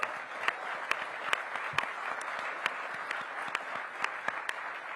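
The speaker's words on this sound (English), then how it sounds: "Give them a big round of applause." Audience at a Washington Commanders stadium-deal announcement in D.C. applauding partners seated in the front row; steady, fairly distant crowd clapping fills the whole stretch with a few sharper individual claps.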